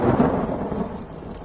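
Storm with thunder and rain, a deep rumbling roll over a wash of falling rain, loud at first and easing slightly over a brief moment.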